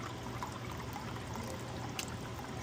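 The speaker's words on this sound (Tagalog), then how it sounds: "Damihan natin ng tubig kasi masarap pag mas maraming sabaw." Water poured into a cooking pot while making chicken tinola soup, a steady trickling stream heard close and alone with no talk.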